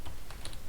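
Quick, soft clicking of a computer keyboard as a few keys are typed close by, with no voices.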